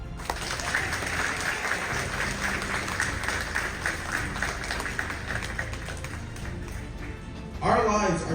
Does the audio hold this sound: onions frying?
no